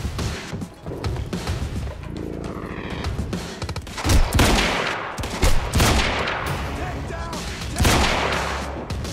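Rifle fire in Quantum Break: repeated loud gunshot bursts and rapid volleys over about nine seconds, mixed with impacts and crashing game effects.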